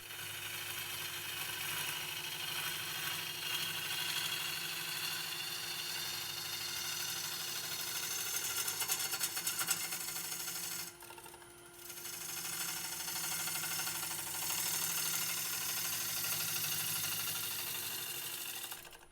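A wood lathe spins a green birch bowl for a light finishing pass, giving a steady close whir with a scraping tool texture. It drops out briefly midway and then resumes, with no talking.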